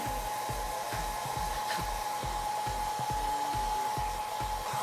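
Hair dryer running on a lukewarm setting to dry a soft Sanrio toy, a steady close whir with a constant hum and faint regular rubbing or patting underneath, no talk.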